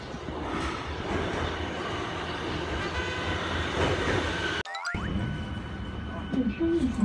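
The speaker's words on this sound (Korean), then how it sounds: "저쪽에 지하철이 이제 들어오고 있고요" A subway train rolls into a station with a steady rumble and rail clatter, then a sharp break and a squeal of brakes near the end. A person talks over it.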